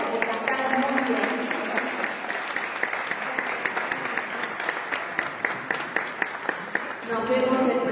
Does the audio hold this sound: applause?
yes